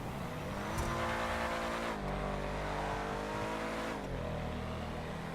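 Canis Freecrawler off-roader in GTA 5 spinning out, its engine droning loudly with tire squeal and shifting revs, continuous and close.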